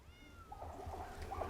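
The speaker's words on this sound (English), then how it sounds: "This is my cat that doesn't like me." A house cat meows near a greenhouse, a few soft, drawn-out calls over steady low background rumble, fairly close but not loud.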